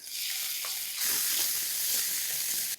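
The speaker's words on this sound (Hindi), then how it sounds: "वेज मांचाओ सूप बनाने के लिए सबसे पहले हम एक पैन में ऑयल को गर्म करेंगे। उसमें हम डालेंगे लेफ्ट ओवर वेजीज।" Leftover vegetables sizzle steadily in hot oil in a pan for a veg manchow soup, a close, bright frying hiss that swells briefly with stirring before cutting off.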